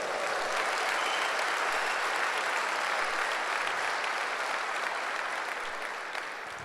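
A church congregation applauding during a Sunday service, dense steady clapping from many hands filling the room for several seconds and tapering slightly at the end.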